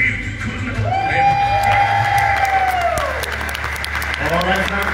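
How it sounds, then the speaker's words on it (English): A church congregation applauding and cheering during a Sunday morning service, loud sustained clapping with whoops and shouted voices, a long rising-and-falling tonal cry over the crowd. "Give him a hand clap of praise."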